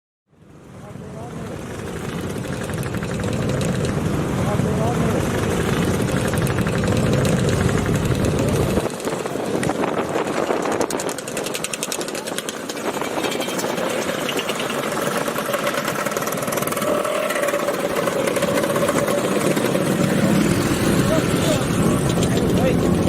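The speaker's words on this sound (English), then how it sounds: "Driving out with the scooters," Motor scooters at a Mod event ride off together, their small engines buzzing and revving in a loud, continuous drone that shifts in pitch as they pass, with people talking faintly in the background.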